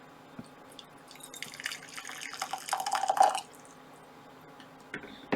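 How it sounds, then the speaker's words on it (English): Hot water poured into a glass beaker during a classroom heat-conduction demonstration: a splashy trickle builds for about two seconds and then stops, followed by a faint drip, with no talking. "I'm going to pour some hot water in my beaker."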